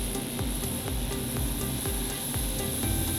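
A small Russian-made tattoo machine running at 3 volts gives a steady, faint buzzing hum with a fast regular pulse, heard alone and close up without any talking.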